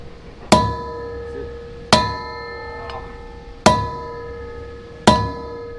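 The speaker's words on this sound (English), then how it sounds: "going to need a bigger hammer for these cone washers" Heavy hammers strike the cone washers of an old combat tank under reconditioning: four loud, evenly spaced metallic clangs, each ringing out with a long, bright metallic tone before the next blow.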